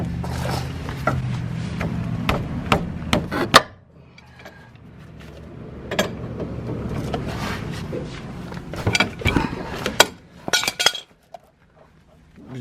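Metal tools clink and scrape as an adjustable wrench works loose a hex fitting on a third-generation Dodge Ram 3500 with a Cummins engine, in a series of close, irregular taps and rattles, with quieter gaps between bursts.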